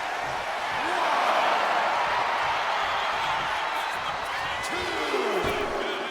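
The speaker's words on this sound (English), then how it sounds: "listen to this crowd coming alive" A live fight crowd cheers and roars in a broad wash of noise, rising in the first second and holding steady, with whistles heard above it.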